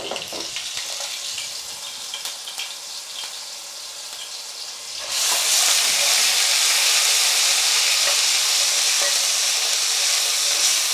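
Garlic and ginger paste hits hot oil in a pan and sizzles, the gentle frying hiss jumping to a loud, steady crackling sizzle as the paste goes in, continuing without talk.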